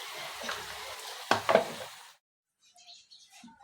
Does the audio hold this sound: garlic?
yes